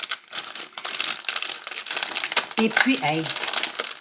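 Bags of chips, including a cheese flavour, crinkle and crackle steadily as they are handled and pulled open at close range, with a voice talking over the rustling and a short exclamation near the end.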